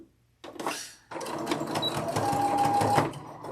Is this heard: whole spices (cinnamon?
no